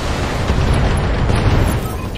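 A target mech explodes in Battletech, producing a dense, roaring blast of rumbling noise that holds at full strength throughout.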